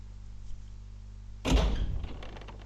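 A door in Resident Evil HD Remaster opens with one sudden heavy thunk and a creaking scrape, loud and close, then fades over a steady low hum.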